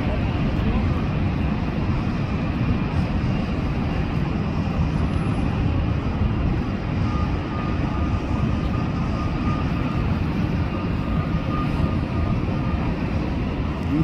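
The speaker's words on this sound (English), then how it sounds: "Next up is Aer Lingus A330 from Dublin" An Aer Lingus Airbus A330 jet arriving from Dublin near LAX, a steady broad engine roar holding at constant loudness throughout, with faint background voices.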